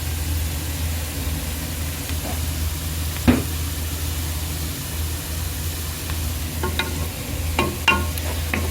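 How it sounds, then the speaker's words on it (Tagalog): Shredded chicken pastil filling gets stirred in a pan, a low steady background rumble with a few faint scraping clicks toward the end. "Haluin lang natin ng konti"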